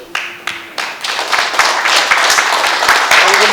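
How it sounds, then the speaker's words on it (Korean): An audience at a Korean gathering welcomes the president of a constitutional lawyers' association: a few scattered early claps quickly swell into dense, steady applause that fills the room. "모두 구상진 헌변 회장님을 박수로 환영해 주십시오."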